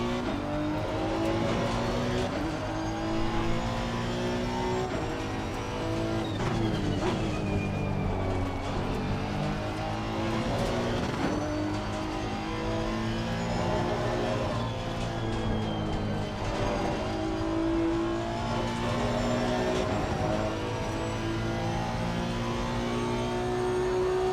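Audi GT race car engines in Assetto Corsa Competizione at Barcelona, a continuous dense roar of several cars with rising and falling revs through gear changes, sustained and loud throughout.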